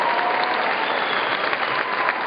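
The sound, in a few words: audience applause for family and friends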